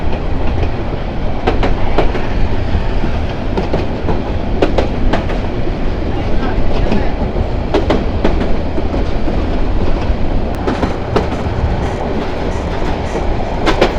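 The Haor Express train between Mohanganj and Dhaka in Bangladesh runs on its rails with a loud, steady rumble, heard from on board, and sharp wheel clicks recur irregularly throughout.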